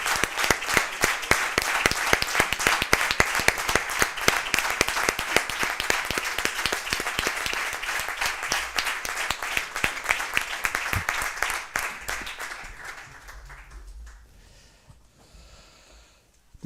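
Loud, sustained applause from an audience at the Almendra de Oro award ceremony, many hands clapping close and steady for about twelve seconds before thinning and fading into quiet.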